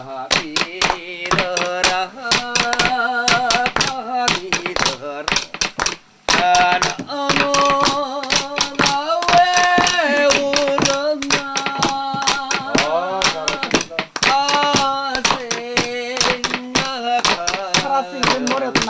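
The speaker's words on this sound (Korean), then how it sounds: "박수 쳐야지, 박수 쳐" A group of people clap hands rhythmically along with singing at a gathering in the mining town of Sabuk, with steady sharp beats continuing under melodic voices throughout.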